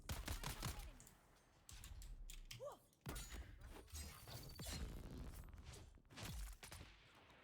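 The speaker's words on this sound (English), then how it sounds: "Sniper shooting at me from somewhere." Sniper gunfire in the video game Dune: Awakening, a series of sharp cracking shots spread irregularly across the clip amid game effects, with no talk.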